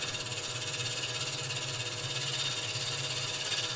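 A wood lathe spinning while a long-grind bowl gouge takes a light trimming cut, giving a faint, even, continuous whir with a slight pulsing hum throughout.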